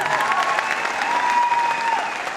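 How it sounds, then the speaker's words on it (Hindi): An audience claps loudly at a stage event honoring a wellness company's top promotion, a dense, sustained burst of applause with faint tonal music beneath it. "एक बार जोरदार तालियां"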